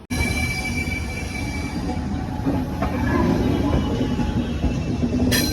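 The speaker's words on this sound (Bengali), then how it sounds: "আমাদের ট্রেন ছেড়ে দিল শালিমার স্টেশন থেকে পুরীর উদ্দেশ্যে" A train departing Shalimar station for Puri rumbles steadily along the rails, with a constant low roar and faint metallic squeals from the wheels, close and continuous.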